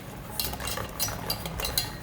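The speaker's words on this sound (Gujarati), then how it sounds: "જ્યાં સુધી ખાંડ ઓગળે ત્યાં સુધી મિશ્રણને હલાવીશું" A spoon stirs khaman batter of gram flour, water and sugar in a bowl, giving a steady run of soft clinks and scrapes at a close, moderate level with no talk.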